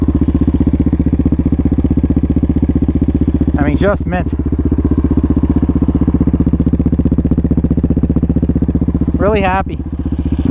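A Yamaha Raptor 700 ATV engine idles steadily and close by with an even, throbbing rumble that lasts throughout, while someone speaks briefly over it twice.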